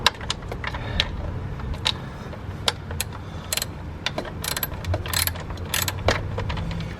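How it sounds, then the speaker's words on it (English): Ratchet wrench working 8mm bolts on a car, a series of sharp metallic clicks and ratcheting bursts at irregular intervals over a low background hum, close and moderately loud, with no talking. "next step is to get these bolts off"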